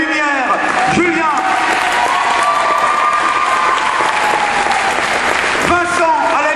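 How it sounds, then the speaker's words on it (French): Loud, dense applause from an audience at a centenary celebration of the Jeune Garde in Eloyes, 2009, honoring a lighting technician, sustained throughout with a voice speaking over it at the start and end. "j'aimerais que vous applaudissiez très très fort Julien, qui a beaucoup travaillé à la lumière"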